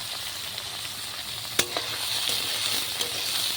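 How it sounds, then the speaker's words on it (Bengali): Potatoes frying in a pan with onion and whole spices give a steady close sizzle with a few sharp stir clicks and scrapes of the utensil, and no talk. "কেটে ধুয়ে পরিষ্কার করে আলুগুলো পেঁয়াজের সাথে ফোড়নের সাথে একসাথে খুব ভালো করে ভেজে নেব"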